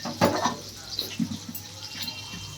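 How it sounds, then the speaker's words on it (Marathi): Water pours into a cooking pot holding fresh wet jawla, small dried-style tiny shrimp, for a spicy seafood dish; a short splashing pour with light drips and clinks, close and fairly quiet, with soft kitchen sounds around it. "थोडं पाणी टाका, कारण जवळा ओळा असल्यामुळे त्याला स्वतःचं असं पाणी सुटतं शिजताना"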